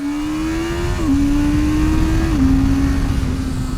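A Honda motorcycle with E-Clutch runs laps on a racetrack, its engine droning steadily and loud with small pitch drops at gear shifts, close and continuous with no talk.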